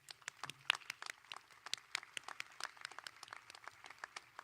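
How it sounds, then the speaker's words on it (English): Scattered, thin applause for graduating students at a high school commencement, individual claps clearly separate and fairly faint, as from a small, spread-out crowd. "Let's give these students a round of applause."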